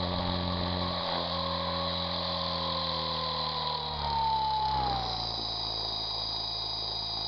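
Heli-Max AXE CP R/C helicopter motor at high idle, a steady whining hum with a pitch that slides downward partway through, close and continuous.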